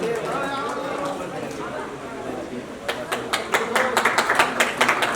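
At an award ceremony for the Nepali comedy teleserial Sorry La, an announcer speaks before the audience breaks into applause. The clapping starts scattered, then builds into a dense, lively patter through the final seconds.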